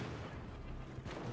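Heavy naval guns from the battleship Kansas in World of Warships Legends rumble through a dense, booming low roar, with a muffled swell near the end.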